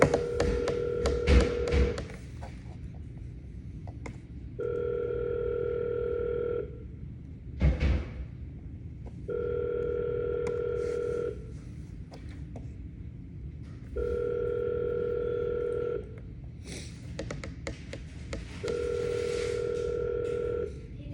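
An outgoing phone call rings back through the handset, four steady two-second electronic ring tones separated by pauses of a few seconds, with scattered taps and thumps between them and no talk.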